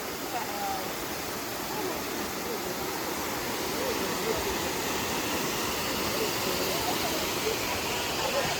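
Steady rushing water from a hidden waterfall in Thailand, a continuous broadband roar with no talk over it.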